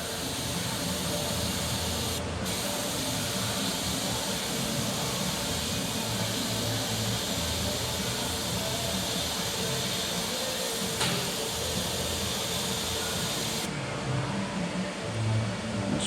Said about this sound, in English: The spray gun's still kind of spraying kind of weird though.